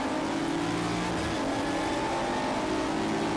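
Glenn Guthrie's Volkswagen Golf racing car at full throttle during a motor race, a loud, continuous engine drone with a steady pitch that holds for the whole moment, close and unbroken, with no talk.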